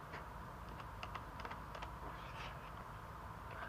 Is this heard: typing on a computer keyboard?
yes